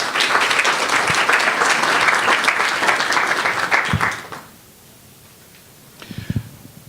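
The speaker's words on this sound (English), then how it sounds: "if you maybe could give applause to Olivia." An audience at a New York event applauds loudly and steadily for about four seconds, then the clapping cuts off and a few scattered claps and noises follow in the quiet room.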